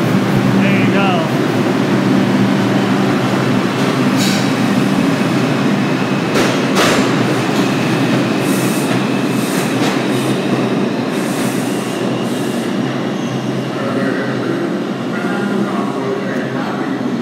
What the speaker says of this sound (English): There you see East Chester Dyer Avenue bound 5 Express train gone.